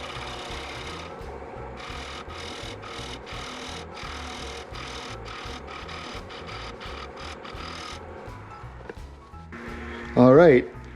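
A wood lathe turns a poplar and resin platter held on a vacuum chuck, the tool scraping in steady rhythmic passes, then stopping briefly before a short burst of speech near the end.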